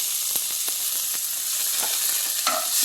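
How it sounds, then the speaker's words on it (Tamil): Onions sautéing in a pan for a cauliflower and green pea stir-fry, a steady fine sizzle with a few soft spoon scrapes and stirring clicks, close and moderately loud, with no voices. "வெங்காயம் வெங்காயம் போட்டு வதக்கணும்"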